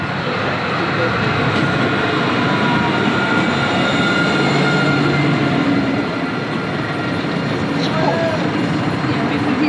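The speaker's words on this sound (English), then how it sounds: "We stayed on the tram for one stop." A loud, steady rumble of a tram in motion around Nottingham, with rolling wheel noise and faint metallic squeals rising briefly near the end.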